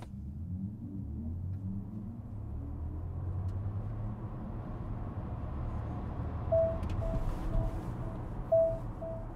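A 2025 Audi Q6 e-tron electric SUV pulls hard from a standstill toward 100 km/h, its steady low road and tyre rumble building evenly from inside the cabin, with a few faint electronic chimes near the end and no talking.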